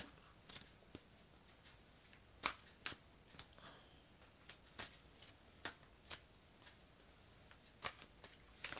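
Oracle cards handled and shuffled, a quiet run of crisp card snaps and flicks in irregular bursts, close by with no talk.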